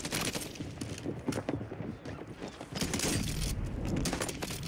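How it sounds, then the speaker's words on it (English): Gunfire in the video game Warzone, rapid bursts of shots and impacts crackling close and loud, thinning briefly mid-way before a heavier, denser stretch of firing fills the rest, with no talk. "Literally shooting me through."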